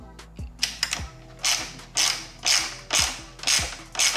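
A ratchet tightens the screw of an Evotech front frame slider on a BMW M1000R motorcycle, giving close, crisp clicking strokes in a steady back-and-forth rhythm of about two per second, alone without speech.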